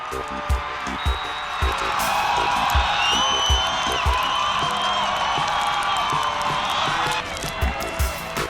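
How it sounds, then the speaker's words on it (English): A high school football crowd cheers and whoops after a Xaverian touchdown in an Eastern Mass Division 1 Super Bowl against Everett, played in rain turning to snow. The roar is sustained, with whistles and shouts over it and a few louder bursts. "the Xaverian crowd was loving it"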